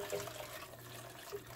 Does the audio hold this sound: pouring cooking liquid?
yes